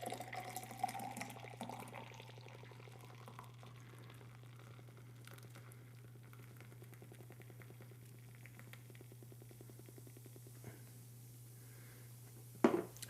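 A drink from a freshly opened container poured hard, giving a steady, fairly quiet liquid splash and trickle that runs for most of the stretch, ending with a brief louder knock near the end.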